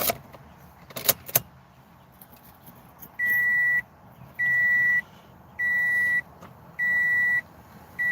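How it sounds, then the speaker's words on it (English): A steady electronic beep repeats five times in even, long pulses after a few sharp clicks and jingles, loud and close with no talking. "Sorry for the beeping."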